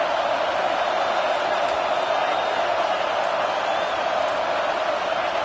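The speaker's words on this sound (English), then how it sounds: "Decibels rising as the crowd gets behind this defense on 3rd down." A stadium crowd at a college football game, Texas Tech at Texas, roars as a dense, steady wall of noise behind the defense on third down, loud and sustained without distinct voices.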